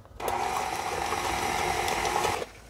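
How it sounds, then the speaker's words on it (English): Brief burst of steady mechanical whirring from an electric mixer quickly blending molasses into a crackle cookie batter, starting abruptly and stopping after a couple of seconds, close and fairly loud with no talking. "I'm just going to give this a quick mix and get it all nice and blended together"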